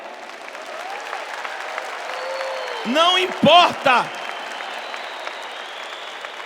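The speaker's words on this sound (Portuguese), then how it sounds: "aplauda para valer" A Catholic church congregation claps in steady, continuous applause throughout, and a voice briefly speaks over it midway.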